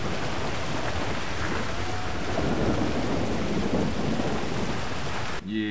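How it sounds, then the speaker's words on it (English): Steady rain and rumbling thunder in the video game GTA 5, a dense, continuous wash of downpour with low thunder swelling midway, ending abruptly in a short burst of different noise. "It's raining, you're not paying attention?"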